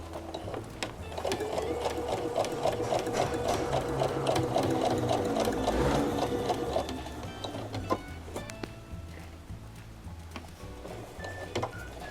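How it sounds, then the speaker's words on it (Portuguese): A sewing machine stitches around the edge of a Seminole-trim dish towel, finishing with a backstitch. Its needle hammers in a fast, steady rhythm for several seconds, then stops, leaving scattered clicks and handling noises. "Vem costurando a volta inteira bem na beiradinha e termina aqui no final com retrocesso."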